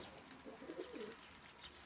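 Pigeons cooing faintly in a loft, a few soft low coos in the middle of a short stretch of quiet background noise.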